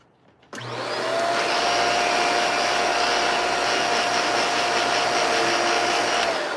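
A Hoover Power Scrub carpet washer switches on and runs outdoors with a steady, loud whirring motor drone and airy suction hiss that holds level for several seconds.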